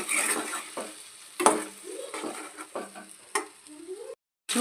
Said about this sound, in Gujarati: સારી રીતે મિક્સ કરી લઈએ